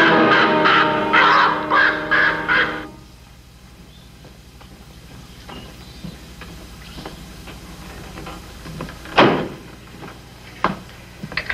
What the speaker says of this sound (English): That hawk's back again.